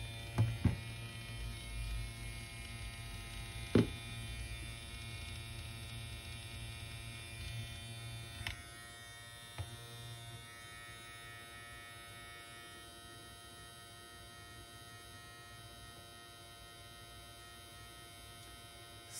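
A JRL FF 2020T hair clipper runs steadily with a quiet, even electric buzz and hum, with a few small clicks early on.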